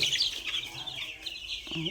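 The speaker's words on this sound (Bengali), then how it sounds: "কয়লার মুরগির বাচ্চাগুলো বয়স আজকে 10 দিন হয়ে গেছে।" Young broiler chicks about ten days old peeping in a high, busy chorus close by, the chirps overlapping continuously throughout.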